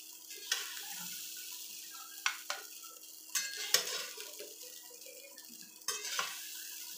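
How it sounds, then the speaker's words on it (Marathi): Egg rice scooped from a pan onto a plate, a few sharp spoon scrapes and clinks against metal over a quiet background hum, with no talking. "आपण गॅस हा ऑफ करू व याला एका प्लेटीमध्ये काढून घेऊ."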